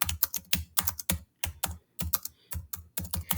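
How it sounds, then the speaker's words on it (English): Rapid clicking keystrokes on a computer keyboard, close and crisp, come in uneven bursts with short pauses between words, alone with no voice. "So what you would do is you would type your response."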